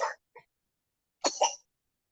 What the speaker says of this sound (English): Whose baby is coughing in our ears?